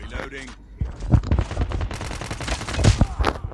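Rapid bursts of video game gunfire crackle through a Thai-language gaming session, with several sharp automatic volleys rising and falling over a few seconds amid dense in-game noise.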